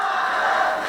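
A live crowd at a Movie Trivia Schmoedown event roars in one dense, sustained wall of cheering and shouting, loud and continuous throughout the brief moment.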